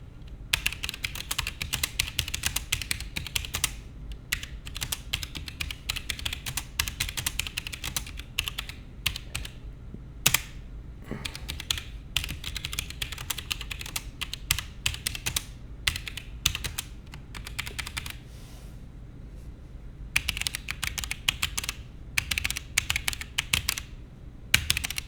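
Continuous fast typing on a ROCCAT Vulcan mechanical keyboard, dense clicky keystrokes with a few brief pauses, recorded close with no voices.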